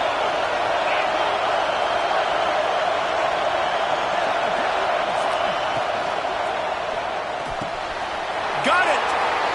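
A large football stadium crowd keeps up a loud, steady roar, a broad wash of massed voices with occasional sharp bangs and whistles cutting through.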